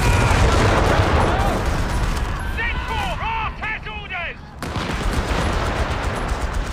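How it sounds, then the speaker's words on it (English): Heavy bombardment in the World War II strategy game Company of Heroes 3 during a 4v4 match, a loud continuous roar of blasts and gunfire with voices talking over it and a brief lull midway. "Oh, bombing."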